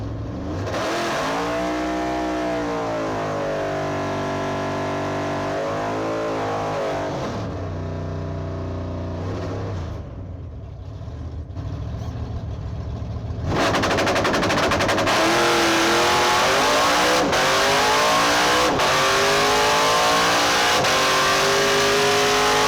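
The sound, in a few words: drag race car Blasphemi accelerating on a run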